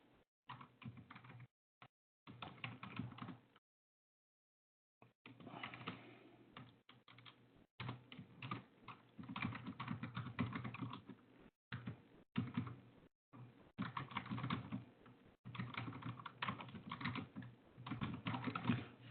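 Rapid typing on a computer keyboard while working in a Linux terminal, close and steady in bursts of keystrokes separated by brief pauses.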